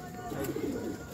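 Racing pigeons in a West Bengal pigeon-flying tournament coo softly as two birds land, a faint, low burbling set against steady outdoor background noise.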